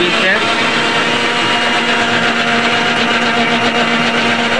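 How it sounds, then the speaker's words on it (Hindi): A mixer grinder grinding chutney whirs continuously at close range, a steady high motor whine with a droning hum underneath. "चलो चटनी पीसते हैं।"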